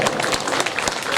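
A crowd claps steadily at a Shrimad Bhagwat Katha religious gathering, a dense, continuous burst of applause with no voices over it.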